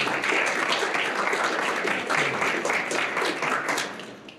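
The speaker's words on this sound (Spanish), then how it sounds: "Un aplauso, por favor, para Cecilia." An audience applauds for Cecilia at a talk on the role of Peruvian women, a dense, steady burst of clapping that fades toward the end.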